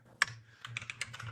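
Fingers type on a computer keyboard in a short run of light, close key clicks with one sharper tap near the start.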